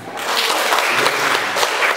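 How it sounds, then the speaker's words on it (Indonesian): A church congregation at an expressive worship service claps together, a dense, loud wash of hands filling the whole two seconds with no talk. "Tepuk tangan"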